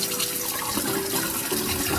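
Cold tap water runs steadily into a bowl of Persian basmati rice as it is rinsed, a continuous close splashing and trickling wash with no voices.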